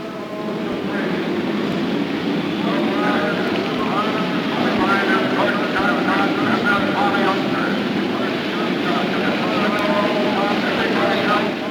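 Field of IndyCar race cars at a 1975 race track, the last of the pack streaming past a stalled car, producing a steady, loud, continuous engine roar that holds level throughout, with a voice speaking over it.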